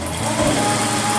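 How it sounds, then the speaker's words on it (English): A sewing machine running steadily while top stitching fabric for a kaftan gown, a continuous close mechanical whir at even speed. "You are going to top stitch it onto the fabric or onto the main body"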